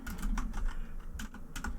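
Rapid keystrokes on a computer keyboard while entering paragraph text into XHTML code, a steady run of close, crisp clicks with small gaps and no voices.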